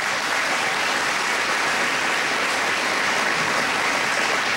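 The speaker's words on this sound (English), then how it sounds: "Give him a round of applause anyway." An audience at a rural economic forum at Northeast Iowa Community College gives a round of applause for the mayor, with thick, even clapping that holds loud and unbroken from start to end.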